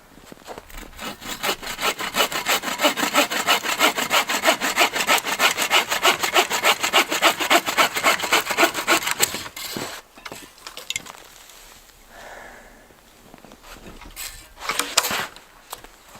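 A hand saw rasps steadily through a dry dead log in fast, even back-and-forth strokes, then stops, leaving a few scattered scrapes and rustles nearby.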